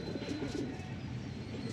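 Pigeons coo softly in a pen, a low murmuring warble repeating close by with faint chirps.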